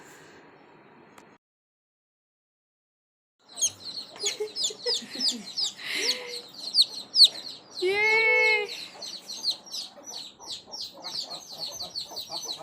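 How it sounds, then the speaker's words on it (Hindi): A flock of village chickens clucks and chirps busily in a coop, a dense run of close, overlapping clucks with one longer drawn-out call, following a short quiet gap at the start. "ये देख सकते हो संगवारी हो, ये सब मुर्गी हमार हरे।"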